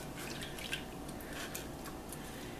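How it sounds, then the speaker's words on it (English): Warm water swished around in a bowl before being poured over grated potato for homemade potato starch, giving steady faint sloshing and dripping with soft splashes throughout and no talk. "I'm going to take some warm water, not hot. You don't want to cook the potato. Some warm water. I'm just going to swish this around."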